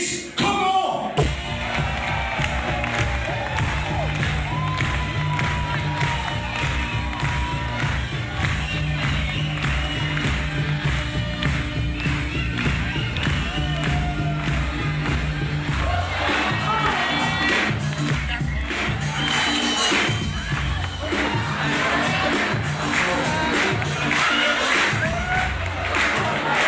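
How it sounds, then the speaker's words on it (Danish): An audience at the Nattens Dronning 2015 pageant finale claps and cheers for the third-place winner, a dense, continuous roar of applause and shouting with whoops that swells in the second half. "jeg håber, I er klar med klappetøjet"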